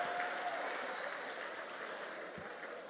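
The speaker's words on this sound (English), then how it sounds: "Please, one more round of applause." Steady applause from an audience at a public administrators' forum, a dense, continuous wash of clapping that holds at an even level for the whole stretch without pause.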